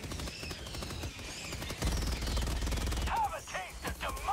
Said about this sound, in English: Sometimes I forget how powerful the anti-material rifle is.